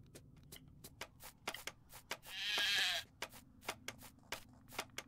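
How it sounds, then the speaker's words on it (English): Sheep bleat in the crafting game Craft the World: one drawn-out, fairly clear bleat sits amid a run of short soft clicks and taps, with no talking over it. "Come on, goats. Or sheep. Make a third sheep."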